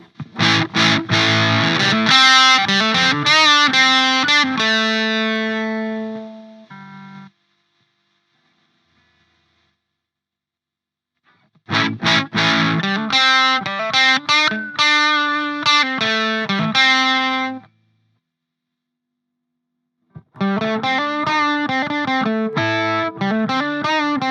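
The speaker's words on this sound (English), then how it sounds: "So it's a bit nasal sounding distortion" Electric guitar through a feedback pedal's buzzy, nasal distortion into a clean amp channel, played in three loud strummed and picked phrases separated by silent gaps.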